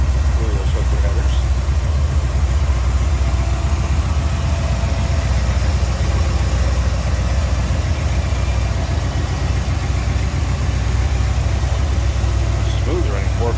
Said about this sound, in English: Smooth running 454 HEI ignition.